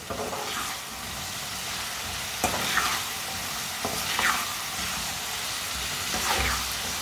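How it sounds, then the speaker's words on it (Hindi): Chopped raw green tomatoes fry over a medium flame for a tomato sabzi, a steady close sizzle and hiss with a spoon scraping and stirring the pan every couple of seconds. "अब 2 मिनट के लिए इसे अच्छी तरह भून लेंगे, अच्छी तरह पका लेंगे 2 मिनट के लिए। ऐसे ही चम्मच चलाते हुए इसे पकाना।"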